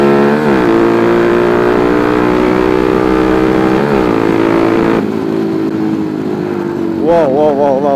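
A motorcycle accelerates hard on a road, its engine revving up through rising pitch sweeps, easing off and then climbing again near the end, loud and close.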